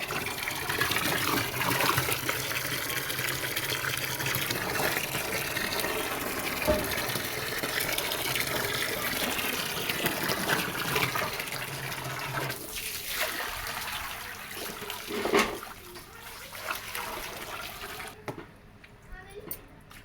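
Rainwater gushes steadily from a pipe into a drum, a continuous rushing splash with voices talking over it at times.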